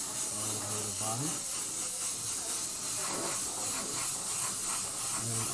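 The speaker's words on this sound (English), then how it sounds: "I'm just going to go ahead and start laying in the white sealer" An airbrush lays white sealer onto an RC car body with a continuous close, loud hiss, while someone talks at low level beneath the spray.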